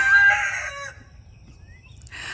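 A rooster crows once, loud and close, its call trailing off into quiet before another brief cry starts at the end.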